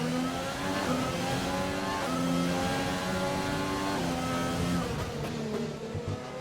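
A McLaren race car engine in a racing video game, Singapore circuit, holds a steady high-pitched whine with rising and falling revs, continuous and prominent throughout.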